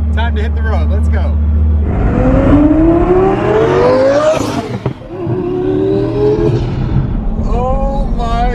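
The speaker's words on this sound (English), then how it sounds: "This car is so fast. That was just a quick little pull." A twin-turbo Lamborghini Gallardo accelerates hard, its engine note climbing steeply through a gear, briefly dropping at a shift, then rising again. It is loud and close, with a voice heard over the start and end.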